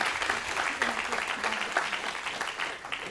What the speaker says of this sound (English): So let's give them a round of applause before we start.